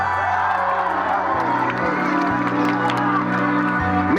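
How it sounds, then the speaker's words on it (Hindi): A large outdoor crowd at a Bhojpuri stage show in Aurangabad claps and cheers loudly, with shouts and whoops over booming music from the stage speakers. "मैं चाहूंगा मेरे भाई के नाम पे एक जोरदार ताली हो जाए।"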